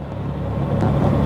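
An old carbureted car engine runs with a close, steady low rumble and throaty drone, loud and without pause, with no talking over it.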